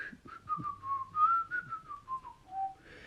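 Deku whistles a clear, wavering tune while walking away, a steady melodic line running alone through the whole stretch with no talk.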